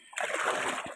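A short burst of water splashing and sloshing as an azolla pond on a farm is stirred by hand, rising quickly and fading after about a second.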